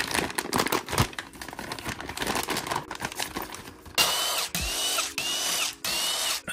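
A power tool driving in bolts on the clutch cover of a 2021 Kawasaki Ninja 400 being rebuilt after a crash, with rapid whirring bursts and ratcheting clicks, close and fairly loud, with no talk.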